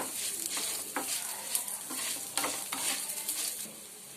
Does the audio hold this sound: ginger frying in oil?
yes